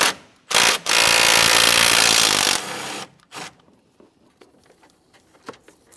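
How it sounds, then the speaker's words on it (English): A 10mm bolt is removed from the radiator fan of a 2014-2018 Mazda 3 with a tool: a short loud burst, then a steady whir for almost two seconds, followed by a brief rattle and faint scattered clicks. "Looking up along the top corners of the fan, along either side, you're going to find a 10mm bolt to be removed."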